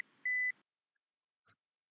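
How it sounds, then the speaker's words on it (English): A short electronic buzzer tone from a Cook's pole climbing apparatus for rats sounds once, a clean steady beep lasting a quarter second, followed by a faint click in an otherwise quiet space. "the rat hears the buzzer sound"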